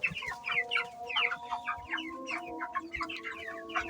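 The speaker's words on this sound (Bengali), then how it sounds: "আমার এখানে মাত্র 75 পিস মুরগি আছে।" Hens cluck and chatter close by in a small poultry shed of about 75 chickens, a busy overlapping stream of short, repeated calls with a steady low hum of fans beneath.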